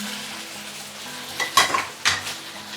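Flat rice noodles (kuay tiaw) drop into hot oil in a wok, giving a soft steady sizzle and then two brief louder bursts of hissing and stirring, with no talk.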